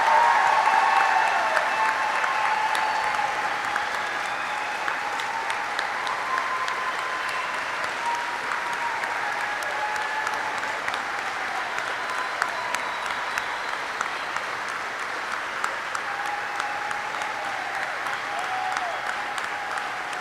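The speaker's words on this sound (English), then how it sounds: "Please join me in a round of applause for the Army's newest aviation warfighters." Sustained applause from a large audience at a U.S. Army flight school graduation ceremony, a dense steady roar of clapping that starts strongest and holds for about twenty seconds with a few scattered sharper claps.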